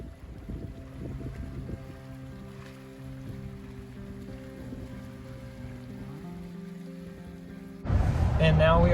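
Steady winter wind gusting off a lake at about 4 degrees, a continuous rushing roar buffeting the microphone, swelling into a louder blast at the very end.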